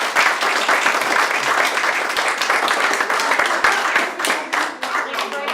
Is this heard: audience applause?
yes